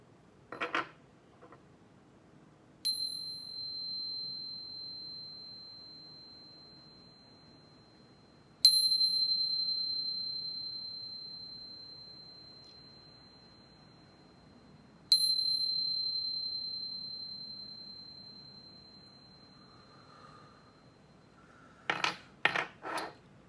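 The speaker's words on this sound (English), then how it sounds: "But first, let's chime." A chime struck three times before a tarot reading, each bright ring sustaining and fading slowly over several seconds, followed by a few quick metallic clinks at the end, with no speech.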